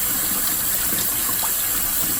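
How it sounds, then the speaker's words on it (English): Boiled soba noodles rinsed under a running kitchen tap, a loud, steady gush of water that fills the whole moment without pause or speech. "You just continually rinse them like this until they get cold."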